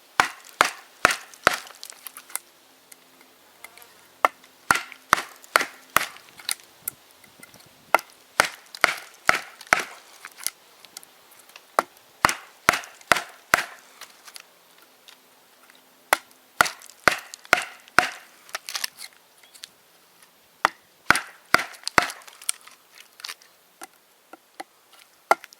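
Wood being chopped with a Mora Pathfinder knife, sharp knocking strikes in quick bursts of several blows separated by short pauses, close and crisp with a quiet background and no talk.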